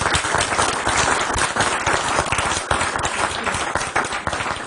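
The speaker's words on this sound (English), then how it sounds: "If we could just give them a round of applause." Audience at a panel discussion giving the panelists a round of applause, a loud, dense burst of many hands clapping that holds steady throughout without speech.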